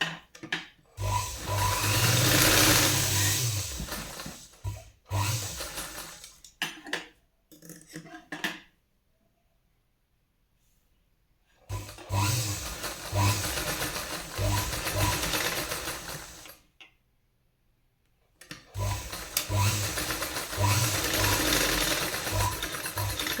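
A sewing machine stitches a folded half-inch strip of blouse fabric for a katori blouse. It runs in loud, steady bursts of several seconds, separated by silent pauses, with clicks and handling between runs.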